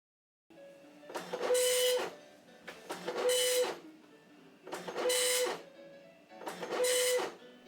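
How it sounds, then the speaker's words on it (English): An old 24-pin dot matrix printer running slowly in bitmap mode gives four separate bursts of loud, rasping head chatter, each about a second long. Each burst has a steady whine, and short pauses between the passes break the printing into a regular rhythm. "when used as a bitmap printer like this, it's very slow. But it works."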